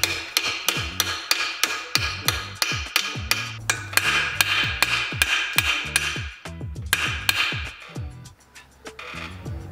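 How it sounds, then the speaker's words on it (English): Rapid, steady hammer blows driving a press-fit plug into a forged 1.6L Miata engine block, about two strikes per second, each a sharp ringing clang, close and loud, with a short pause near the end. "I'm gonna hammer in that plug"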